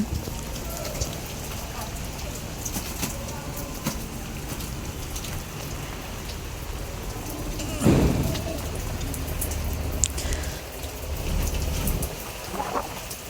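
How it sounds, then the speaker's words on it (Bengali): Steady rain patters and sprays continuously through the netting of a pigeon house, wetting the floor, with a deep rumble swelling briefly midway and scattered drips and taps on nearby surfaces. "এই নেটের ভিতর দিয়ে বৃষ্টির হেঁচলা যাইতেছে আর কি"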